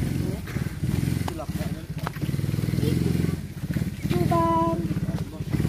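A motorcycle engine hums and putters steadily up close while riding toward a hilltop overlook, with people talking over it throughout.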